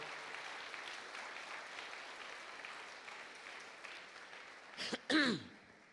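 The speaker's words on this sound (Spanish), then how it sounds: "Dê aplauso de glória ao Senhor." A church congregation at an international apostolic conference claps faintly and steadily in a spacious hall for several seconds. Near the end, a sharp nearby cough and throat-clearing cut in, then trail off.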